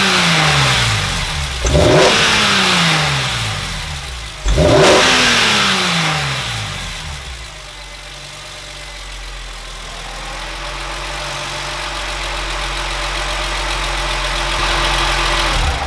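A BMW S54 engine, freshly swapped into an E36, cranks and catches twice with sharp revving bursts, then settles into a rough, steady idle close to the recorder with no one talking.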